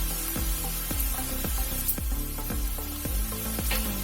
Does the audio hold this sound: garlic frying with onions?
yes